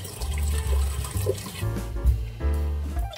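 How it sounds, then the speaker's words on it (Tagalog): Water gushes into a cooking pot being filled to boil cleaned pork intestines, a steady loud splashing pour with no talking. "Lagyan na natin tubig."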